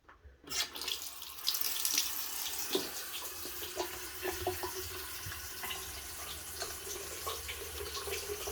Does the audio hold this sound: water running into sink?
yes